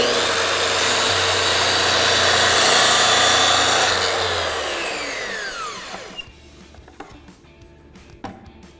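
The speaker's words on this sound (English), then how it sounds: "Take our track saw, place it directly on our track." A track saw running along its guide track, cross-cutting a wide wooden board: a loud, steady broadband motor whine with blade cutting noise for about six seconds, then the saw winds down, followed by a few faint clicks.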